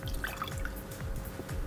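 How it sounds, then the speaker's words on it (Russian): Liquid is poured from two bar jiggers into two separate glasses, giving a soft, steady trickle with a few faint drips, close but quiet. "Наливаем, сливаем с двух джиггеров в два разных стакана."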